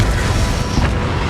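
A dense, sustained blast from a spell-cast explosion in the video game Hogwarts Legacy, loud and rumbling with a low boom filling the whole short moment.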